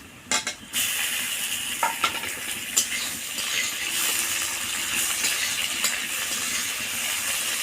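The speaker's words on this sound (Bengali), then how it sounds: "পেঁয়াজটাকে লাল করে ভেজে নিয়েছি এবার আমি টমেটো কুচিটা দিয়ে দেবো" Chopped tomato goes into a pan of onions fried until browned, with a few quick clatters at the start followed by a steady, moderate sizzle and occasional stirring clinks.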